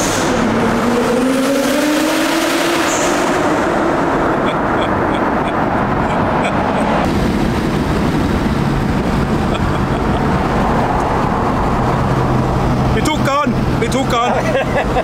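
A 1993 Toyota Supra heard from inside the car under hard acceleration, engine pitch sweeping upward then a loud roaring drive with road noise, while passengers talk and exclaim over it.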